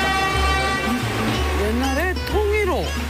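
A train on an old railway line, the so-called Death Railway in Kanchanaburi, sounds its horn in rising and falling toots over loud engine rumble, with voices mixed in.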